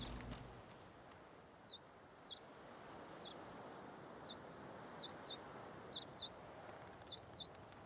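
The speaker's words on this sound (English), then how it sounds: "That bird, it's very loud." Bird calls from a video game, Divinity: Original Sin 2, chirp in short, repeated high bursts, fairly loud and close, over a low steady ambient wash with no talking.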